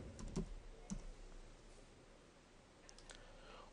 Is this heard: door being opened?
no